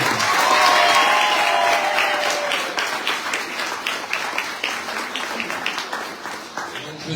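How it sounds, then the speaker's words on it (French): Audience applause and cheering at a cycling team presentation for the 2024 Tour de Guadeloupe, loud and dense at first, then settling into steady rhythmic clapping; a voice talks briefly over the start. "sous vos applaudissements, Monsieur Johan Gênes"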